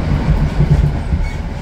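Steady rumbling clickety-clack of a motor train railcar in motion, with rhythmic low wheel beats over rail joints heard from inside the carriage, loud and continuous with no talk.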